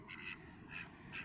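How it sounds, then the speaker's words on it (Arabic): Ducks on a park pond quacking faintly in a few separate short calls, spaced apart over a soft outdoor background. "ليكو بطات"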